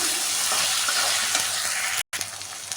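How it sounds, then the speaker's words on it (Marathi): Tomatoes sauté with ginger garlic paste in a hot pan, making a loud, continuous hissing sizzle with light stirring and a brief cut near the end. "टमाटो चांगलं भाजून घ्यायचं"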